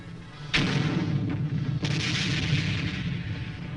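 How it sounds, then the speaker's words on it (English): A recoilless rifle fires in a sharp loud blast, followed by a second report and a rolling boom that carries through the field setting, with no talk. "the miracle weapon of them all, the recoilless rifle, an easy firing weapon packing the punch of an artillery piece."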